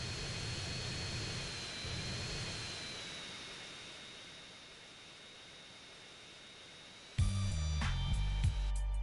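A jet airliner's engines whine steadily as the plane comes in to land at Las Venturas International in the video game GTA San Andreas. The tone fades slightly, then a loud burst of game music cuts in near the end.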